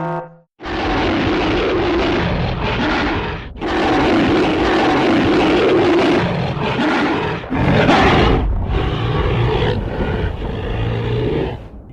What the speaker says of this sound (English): here is the roar of the very first King Kong